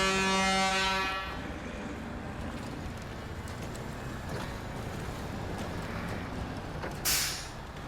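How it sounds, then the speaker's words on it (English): The TUZ 16 Actaeon work truck in SnowRunner sounds its loud air horn with a deep, brassy blast of about a second. A low engine rumble and creaks follow, with a short hiss near the end. "Listen to that horn, that air horn."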